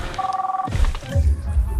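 An electronic phone tone comes from a dinosaur that swallowed a phone in Jurassic World Evolution 2: a steady two-pitch beeping pulse, followed by a low thump and rumbling game noise.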